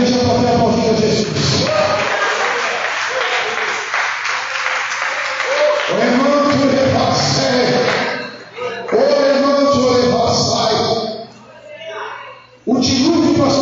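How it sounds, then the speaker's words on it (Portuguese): Church congregation applauding during a service, a broad wash of clapping and cheering mixed with a preacher's amplified voice and music, loud and reverberant. "A igreja pode aplaudir a Jesus."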